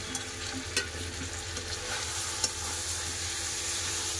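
Meat curry frying in oil with water just added, a loud continuous hiss and sizzle close up, with occasional clicks of a spoon stirring through it.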